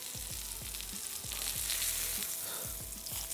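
Steak sears in a hot pan with a steady loud sizzle, punctuated by repeated low thumps and scrapes as the meat is pressed down for good contact.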